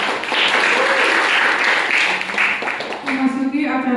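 Classmates applaud after a presentation in a class session, with loud, steady clapping from a group that fills the room and a voice speaking over it near the end.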